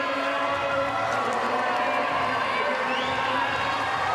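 A tennis crowd at Pat Rafter Arena during a United Cup match, a dense, loud wash of cheering and shouting voices that fills the whole stretch without a break.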